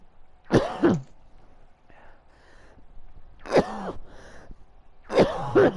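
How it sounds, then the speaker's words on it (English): Three harsh, close coughing fits from a man, each a short burst of rough hacking separated by brief pauses, with softer throat noises between them. "anybody watching this in the future, they're gonna hear me cough"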